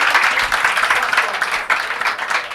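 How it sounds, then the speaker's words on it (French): An audience applauds during a live show, brisk clapping from a crowd nearby that swells and dips briefly over a couple of seconds. "Allez, applaudissez pour nos amis de la station pizza."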